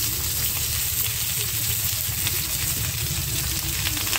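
Ridge gourd pieces fry with nigella seeds in a pan, a loud, steady sizzle with crackling and light stirring running continuously and close.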